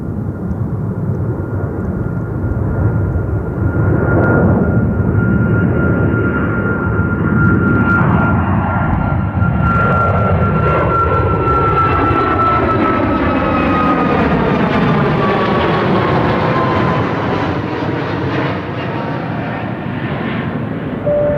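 A Saudi Boeing 787 jet airliner at London Gatwick Airport roars loudly and continuously, its engine tone shifting as it passes nearby, with a high whine over a broad rumble.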